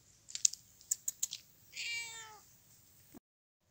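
A cat gives a single drawn-out meow that falls in pitch, heard close by indoors after a few sharp tapping clicks, then silence.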